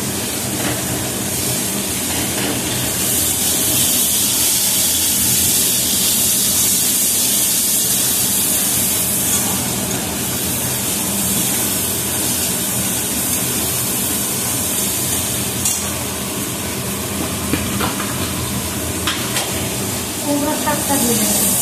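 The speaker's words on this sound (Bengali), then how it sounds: "রসুনটা দিয়ে দিয়েছি, এই যে রসুন, এটা ভাজা হচ্ছে" Garlic frying in a pan, a steady broadband sizzle and hiss running throughout at moderate loudness, with someone talking over it.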